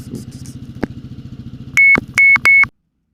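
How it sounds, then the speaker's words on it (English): Idling motorbike at a Mod 1 riding test, steady low engine putter with a sharp click, then three loud electronic beeps before the engine cuts off into silence. "If at any point you have trouble hearing me because of the engine, feel free to switch off"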